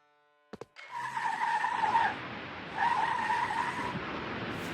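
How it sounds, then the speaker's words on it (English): Car in the video game Rue Valley speeding off from a standstill, tires spitting dust and gravel; a loud roaring surge with a whining engine tone rises, dips briefly, then surges again, alone without talk. "The car leaps forward like a frantic old nag, tires spitting dust and gravel with disdain."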